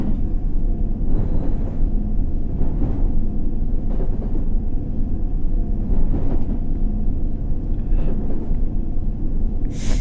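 Simulated subway train engine loop from World of Subways 3 plays as a steady, loud rumbling drone with periodic brief swells, heard alone without talk.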